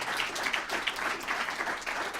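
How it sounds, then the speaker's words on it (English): Audience applause for a former Irish prime minister, a steady dense wash of clapping throughout the short stretch with no clear talking. "ask you for a second time for a big applause"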